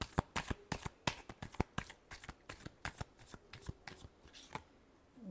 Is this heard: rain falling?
no